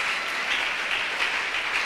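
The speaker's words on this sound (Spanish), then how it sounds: "Dele un aplauso fuerte al Señor." A church congregation applauds in an even, sustained burst of clapping that stays steady throughout, with no voices over it.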